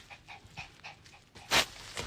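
A dog close by during a livestream, giving repeated soft panting or whimpering puffs in a steady rhythm, then one louder burst near the end, with no talk over it.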